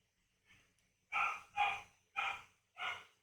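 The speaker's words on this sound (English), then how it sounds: "Do you hear the dog barking?" A dog barks four times in a steady sequence, preceded by a softer yip, sounding somewhat distant and faint, with no talking over the barks.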